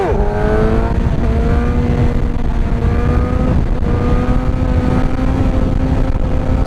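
Suzuki GSX-R 750 sport bike engine revving hard as the front wheel lifts into a wheelie, a loud continuous rising and falling engine note held close throughout with no voices.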